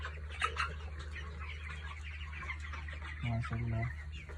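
Chickens on a small broiler farm, including a 28-day-old broiler weighing about 2 kg that seems to have a slight cold, cluck softly and intermittently over a steady low hum, with a short louder burst of calls near the end.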